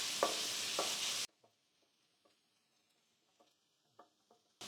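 Onion, garlic and green chilli sautéing in a pan for a mushroom capsicum masala: a loud, close hissing sizzle for about a second, then quiet with light scattered clicks and scrapes of stirring.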